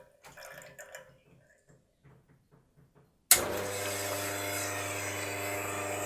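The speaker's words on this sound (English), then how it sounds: "you'll see we've now got a flow of water" A Wega espresso machine's boiler starts autofilling with a sudden, loud, steady rush of pumped water. A few soft drips and clicks come first in near silence.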